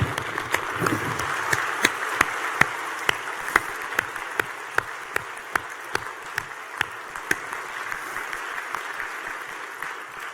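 A graduation ceremony audience applauds at a winter graduation, a continuous wash of clapping with sharp, distinct claps and a few whoops popping out near the front, fairly loud and sustained throughout.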